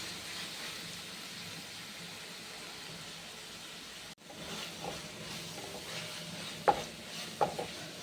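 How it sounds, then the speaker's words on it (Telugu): Tomatoes fry in a pan for mutton curry, giving a steady, soft sizzle that cuts out briefly midway before resuming, with a couple of light utensil clinks near the end. "మనకి ఈ టమాటా బాగా వేగిపోయి మంచిగా మగ్గిపోయేంత వరకు ఫ్రై చేసుకుందాం"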